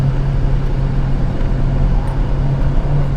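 A Honda Civic Type R (tenth generation) with a swapped rear sway bar drives on a road at about 6,100 feet elevation, producing a continuous loud engine hum and road rumble from inside the car, with no talk.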